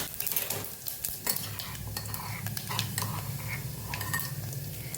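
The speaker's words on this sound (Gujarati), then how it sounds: "અહીં આપણું તેલ સરસ ગરમ થઈ ગયું છે. અડધી ચમચી જેટલું આપણે જીરું ઉમેરશું." Cumin seeds hit hot oil in a pan for a Kathiyawadi dish, crackling and sizzling close up with light spoon scrapes and clinks against the pan.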